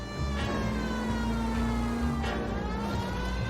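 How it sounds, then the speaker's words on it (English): A police car siren wails continuously in the L.A. Noire game, a steady tone sustained loud and close throughout as the car drives through city streets on Broadway. "Start the sirens again."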